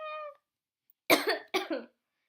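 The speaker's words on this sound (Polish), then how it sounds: "Przepraszam za kaszel." A short tonal sound, then silence, then two sharp coughs close up, each harsh burst followed by a brief ragged tail.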